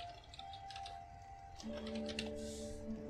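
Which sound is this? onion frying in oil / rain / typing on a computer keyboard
typing on a computer keyboard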